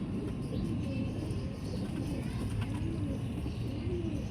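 Pigeons coo in soft, repeated rolling calls within a noisy, constant background hum that runs throughout, with no clear speech.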